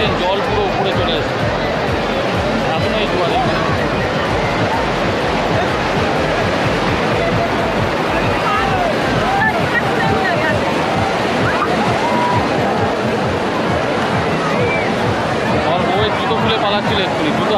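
Waves wash continuously onto Udaipur sea beach near Digha, a loud, dense roar of surf and sloshing water filling the whole stretch, with people talking over it.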